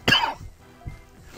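A single sharp, close cough from a person getting over an illness with something caught in the throat, followed by a softer throat-clearing rasp and quiet breathing.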